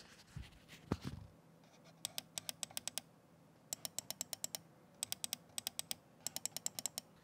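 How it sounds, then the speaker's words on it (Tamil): Buttons on an Asus WT300 wireless optical mouse are clicked in quick bursts of sharp, light clicks, close and fairly quiet. A few soft handling knocks come at the start, and no voices are heard. "இது பட்டன்ஸ் உடைய கிளிக்கிங் சவுண்ட்."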